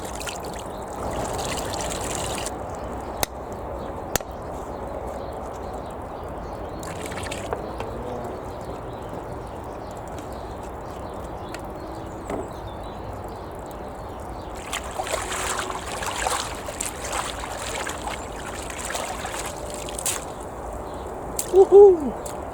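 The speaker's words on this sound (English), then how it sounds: "we're going to swirl the buckets into it" Buckets swirled through water mixed with Jeyes fluid in a wheelbarrow, sterilising them for potatoes: steady sloshing and trickling, with busier splashing later and a brief louder splash near the end.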